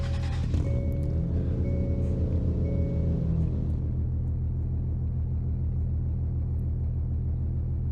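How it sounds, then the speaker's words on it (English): A Hyundai Genesis Coupe idles in the Roblox game Greenville, giving a steady, low engine rumble with a faint hum that holds evenly the whole time, with no voices. "It's got a slight idle sound to that."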